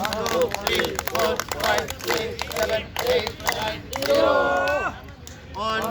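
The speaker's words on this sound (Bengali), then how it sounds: "রেডি তালি দেবো জোরে" A group doing outdoor exercise at Chandrima Udyan park claps loudly together in a steady beat, while a leader's voice counts and talks over the claps.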